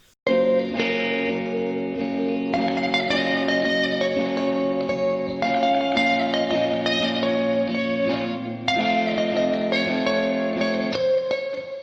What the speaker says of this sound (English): with effects, all the guitars sound like this